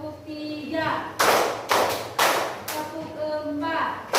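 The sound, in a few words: class clapping hands in counted rhythm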